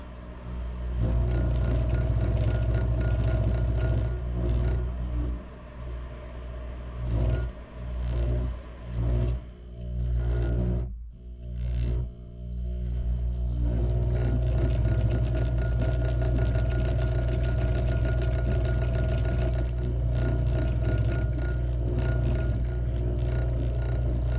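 Steady droning whir of an electric lathe turning a fishing rod while thread is wrapped onto double-seated and snake guides, loud and continuous apart from a few dips in the middle, with no talking.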